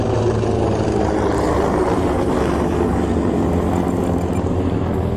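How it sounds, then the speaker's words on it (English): A continuous low rotor drone rumbles steadily throughout, like a helicopter passing overhead, with no voices, at an RC boat outing in Hilo. "We get those helicopters all day,"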